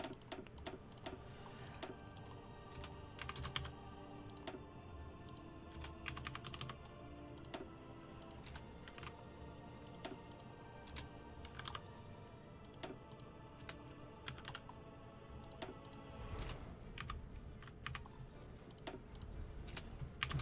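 Numbers typed on a computer keyboard, a long run of quick irregular key clicks, close and crisp, with no talking.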